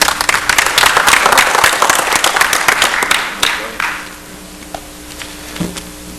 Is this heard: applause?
yes